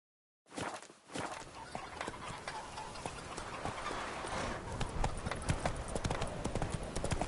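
Horse hooves clip-clop steadily in The Witcher 3, a close, continuous walking rhythm on a hard surface that runs nearly the whole stretch after a brief silent start.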